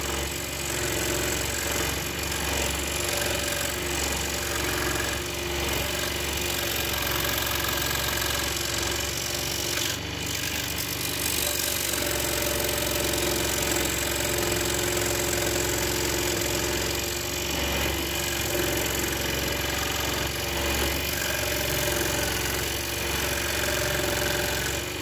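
A scroll saw cutting wood, its motor running in a steady, continuous mechanical buzz with a fine reciprocating rattle throughout, close and unchanging, no voices.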